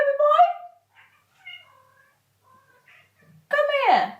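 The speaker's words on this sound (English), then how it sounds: "That's my cat. He's very vocal." A vocal pet cat gives a loud, drawn-out meow close by, then a few faint murmurs, and finally another long, wavering meow.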